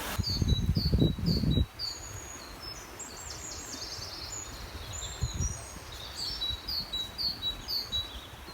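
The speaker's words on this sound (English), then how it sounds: "Lots of lovely bird songs still." Several birds sing and chirp in bright repeated phrases over quiet outdoor ambience, some near and some farther off, with a brief rustle or thump near the start.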